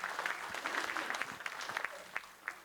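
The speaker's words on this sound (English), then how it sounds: "I want a round of applause for this guy." Audience applause at an alumni association distinguished alumni induction ceremony, a dense steady wash of many hands clapping indoors at moderate level, with a few sharper individual claps near the end.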